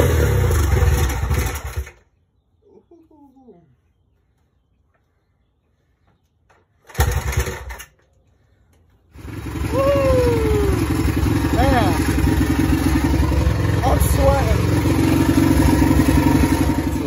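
A dead dirt bike is kick-started, with early clattering attempts, a quiet pause, then the engine catches and runs at a loud steady idle with occasional revs, close up.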